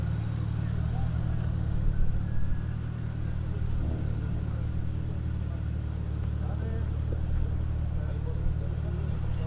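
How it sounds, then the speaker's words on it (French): The engine of a 1986 Ford Fiesta XR2 rally car rumbles steadily at a night rally event, a low continuous drone with slight swells, heard under a commentator's talk. "Voilà, sur une Ford Fiesta XR2,"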